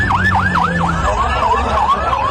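Fire brigade vehicles arrive at the scene of a plane crash where the fire has spread to a building and hostel, sounding a loud wailing siren that sweeps up and down repeatedly and then slows into longer rises and falls, with engine rumble underneath.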